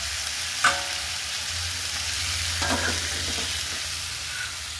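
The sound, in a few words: cauliflower and spices frying and being stirred in a pan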